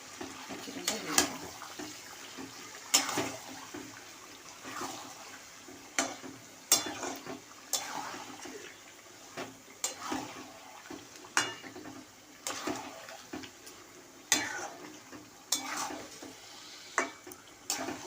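Chicken pieces frying in oil with cooked-down spice paste, with intermittent clanks and scrapes of a spoon stirring the pan over a steady low sizzle.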